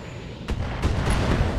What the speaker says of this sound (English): And we can hit him with the long-range missiles.